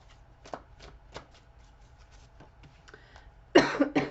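Tarot cards being shuffled before a reading, with soft repeated riffles and then a loud, close burst of shuffling at the end, with no voices.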